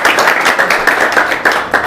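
An audience at a quiz event claps vigorously, a close, dense and loud burst of hand claps that continues steadily throughout with no speech.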